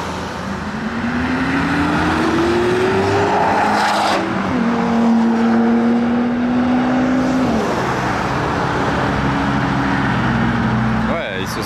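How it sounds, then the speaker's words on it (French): A Bentley Bentayga and a Ferrari SF accelerate hard past a roadside crowd at a Gumball 3000 rally event in France, with loud rising engine tones and gear changes, under nearby chatter. "On a même entendu plus le Bentayga que la SF."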